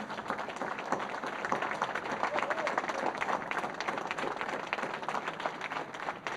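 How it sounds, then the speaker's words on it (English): A seminar audience on its feet gives sustained standing applause, dense and even clapping from many hands at moderate distance, continuing steadily without pause. "may I suggest we all stand up and give Bhupendra Bhai a standing applause"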